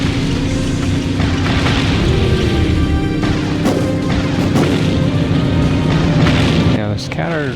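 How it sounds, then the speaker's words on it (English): A scatter shot weapon fires amid constant, loud booming and crashing from the Seek & Destroy video game, forming a dense, unbroken wall of game noise with a voice talking over it. "the scatter shot's doing really good here"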